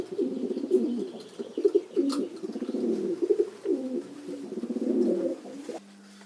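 Racing pigeons coo continuously in a rhythmic, throaty series of low burbling calls, close and fairly loud, with the cooing running almost the whole way before it stops abruptly near the end.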